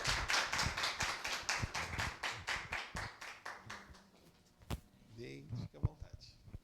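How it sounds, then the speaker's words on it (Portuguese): A small audience at a final-project presentation applauds a presenter, a burst of distinct rhythmic hand claps that thins out and fades over about four seconds before a person starts talking. "Palmas para o Denis"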